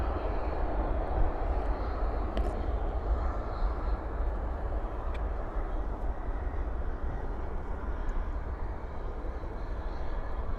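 An airliner rolls out on landing at night at DFW with spoilers up and thrust reversers deployed, giving a loud, steady low roar that holds throughout with little change.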